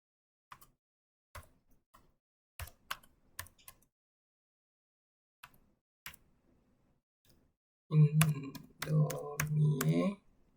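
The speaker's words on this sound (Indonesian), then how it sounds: "Nah, kita di sini mengetik" Computer keyboard typing during a coding tutorial: sparse single key clicks at first, then a dense, fast burst of keystrokes near the end, fairly close and clear with no talk over it.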